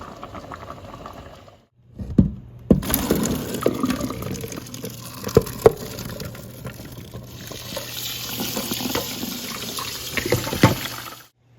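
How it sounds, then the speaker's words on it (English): Running tap water pours steadily over smoked dry meat being washed in a sink, a continuous close splashing rush with clunks and handling knocks, starting after a short quiet pause and cutting off at the end. "so I'm done washing my smoked dry meat"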